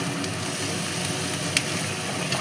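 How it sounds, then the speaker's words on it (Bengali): Onion and green chili with salt and turmeric frying in a pan, giving a dense, continuous close sizzle with small crackles and no talk. "পেঁয়াজ আর কাঁচা লঙ্কাটাকে ভালো করে ভেজে নেব একসাথে"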